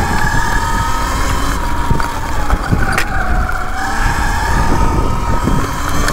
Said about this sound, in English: I'm just come out on the Sur-Ron for a little rip around a few single trails I've been checking out on my mountain bike